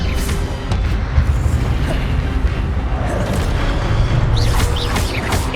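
A Levioso spell cast in the video game Hogwarts Legacy gives a dense, rumbling magical boom that holds steadily, with brief sparkling chimes rising near the end.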